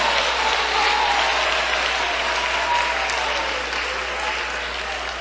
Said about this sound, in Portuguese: Desocupem as suas mãos, batam palmas e glorifiquem a Jesus.